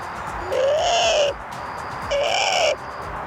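A voice imitates a Eurasian collared dove with two drawn-out, hoarse rising-falling calls separated by a short pause, close and clear.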